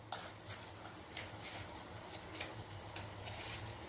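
Soft, steady bubbling of palm jaggery coffee with dried ginger and coriander in a pot, with faint pops and ticks, quiet and close, no voices.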